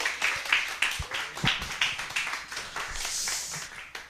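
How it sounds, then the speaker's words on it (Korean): A Korean church congregation claps to welcome a missionary to the pulpit at an evening worship service: quick, fairly steady rounds of clapping at moderate loudness, heard close and with no talk over them. "박수로 환영해 주시기 바랍니다."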